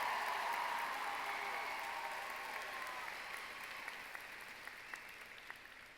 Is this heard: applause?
yes